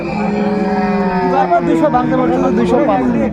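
Dairy cattle moo loudly and close by, one long drawn-out low call over a crowded, chattering cattle market at Ambari, Dinajpur, Bangladesh.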